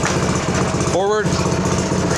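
A Craftsman 7hp gasoline snow blower engine runs steadily at close range as its augers spin, giving a continuous mechanical drone with a brief tonal whine partway through, while a person talks over it.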